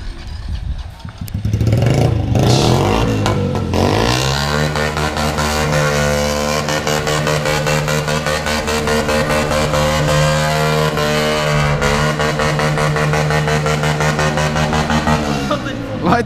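A Shineray Phoenix motorcycle engine revs hard and holds a loud, steady high-rpm drone for most of the stretch, up close after a brief rougher start.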